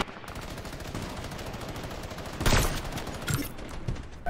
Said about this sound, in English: Uncle Gundy with the minigun. Classic gun